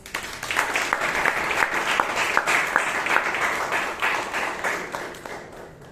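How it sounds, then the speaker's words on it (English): Applause from a Toastmasters meeting audience, steady clapping from many hands lasting the whole stretch at moderate loudness with sharper individual claps standing out. "Can we give them another round of applause?"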